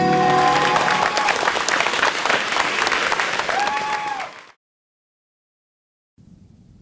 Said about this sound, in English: Ladies and gentlemen, a round of applause, everybody!